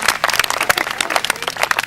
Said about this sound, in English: Let's give that little lad a round of applause.